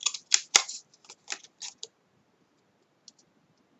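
Sharp scissor snips cutting paper tabs for a perpetual cube calendar craft, a dense cluster of crisp clicks early on, then a few spaced cuts and faint isolated snips near the end, close and with no talking.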